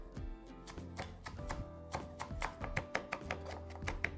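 A knife chops fresh curly parsley finely on a cutting board for a quinoa brunch bowl, with a quick, steady series of sharp close taps.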